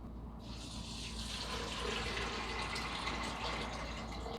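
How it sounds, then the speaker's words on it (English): Water pours steadily from a tap into a pan of soaked beans on a stove, a continuous close rushing splash with no talk over it. "add lots of water"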